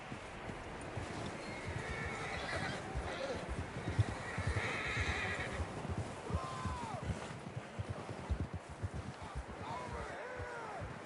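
Horses in Red Dead 2 whinny and neigh repeatedly over rhythmic clip-clopping hooves and wind, with a few shouted voices mixed in.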